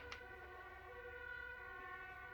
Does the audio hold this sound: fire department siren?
yes